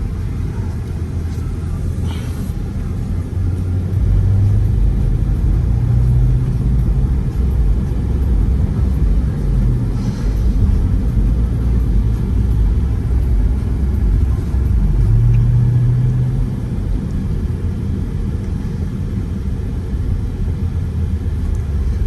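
Ford Expedition Platinum engine rumbling steadily from inside the cabin while driving, a loud, constant low drone with slight swells that sounds like acceleration.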